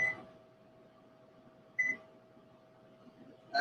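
An oven's control buttons give short electronic beeps as a cooking timer is set, with one chirp at the start, another near the middle and a third at the end, each crisp and close over a steady faint hum.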